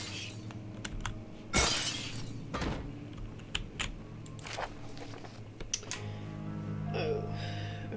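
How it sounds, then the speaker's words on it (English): Glass shatters in the video game Amnesia, one loud crash standing out early amid a dark ambient game soundscape with scattered smaller clicks and knocks. "Break all the glass."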